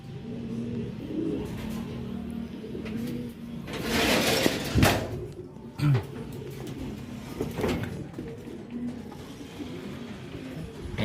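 Racing pigeons arrive at a loft during a race's first lap, with soft intermittent cooing and bird calls, a few wing flutters and small knocks, over a low outdoor background hum and distant traffic.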